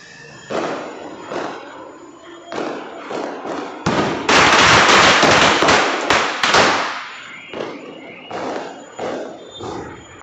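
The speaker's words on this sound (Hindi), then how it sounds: "यहाँ पर हम लोग सब पटाखे जला रहे थे नीचे" Diwali firecrackers bursting outdoors at night, a rapid string of sharp loud pops and cracks with a dense crackling barrage in the middle, no talking.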